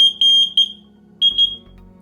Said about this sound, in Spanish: ha sido un salto de la alarma producido por la apertura de la puerta